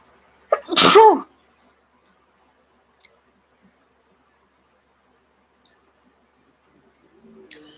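A single sharp sneeze bursts out close by, followed by near silence with a faint click and a soft rustle later.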